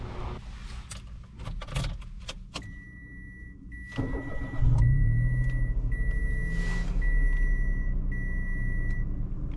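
Engine of a 2022 Mitsubishi Mirage hatchback at highway speed: a steady low drone and road rumble that swells after a few clicks and thumps, with a thin whine running alongside, fairly close and continuous.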